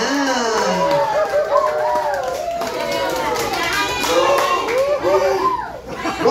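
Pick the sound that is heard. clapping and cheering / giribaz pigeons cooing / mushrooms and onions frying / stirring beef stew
clapping and cheering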